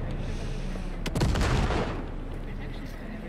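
A grenade explodes in Cyberpunk 2077, a heavy blast with a few sharp cracks swelling into a broad roar, amid ongoing combat noise.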